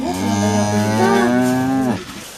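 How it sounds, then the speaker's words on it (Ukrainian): Cow on a farm giving one long, loud, close moo lasting nearly two seconds, then falling quiet. "тут купили три корови"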